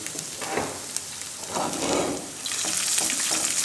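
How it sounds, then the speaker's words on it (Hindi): Boiled chicken pieces fry in about two tablespoons of oil in a pan, giving a steady crackling sizzle that swells in patches and grows brighter toward the end. "तकरीबन 2 टेबलस्पून हम इसमें ऑयल का डालेंगे। जी व्यूअर्स, हम इसमें अब अपना चिकन डालते हैं।"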